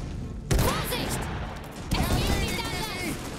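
A volley of gunfire in the video game Iron Harvest: two loud, sharp bursts of shots with crashing reverberation, mixed with game sound effects.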